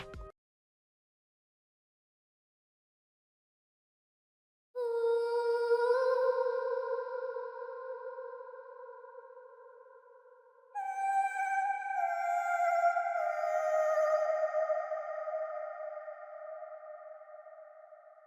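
A pitched vocal chop from a remake of an Afrobeats track, built in FL Studio, plays two sustained, airy tones, each rising in from silence, swelling and then fading slowly, heard alone with no talk.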